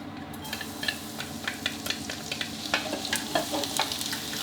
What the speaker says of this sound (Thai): กระเทียมครับนำลงไปเจียวให้หอมเลยนะ